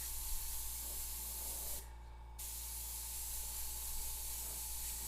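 Continuous close hiss of an airbrush spraying paint onto a skull, cutting out briefly for a moment before resuming, over a low steady hum.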